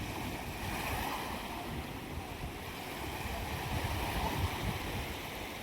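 Sea waves wash onto a clean beach at Velas near Mandangad, a steady, broad roar of surf with wind noise on the microphone, continuous and fairly close with no speech.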